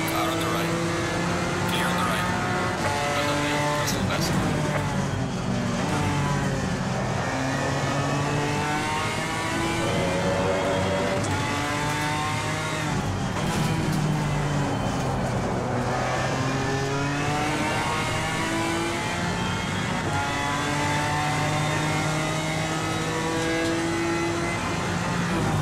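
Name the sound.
race cars on track in video game Assetto Corsa Competizione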